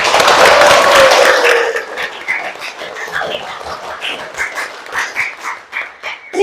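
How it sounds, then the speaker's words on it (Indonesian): A classroom of students applauding together, a dense burst of clapping that fades after about two seconds into scattered individual claps and light chatter from the room. "berikan aplaus, tepuk tangan untuk kita semua"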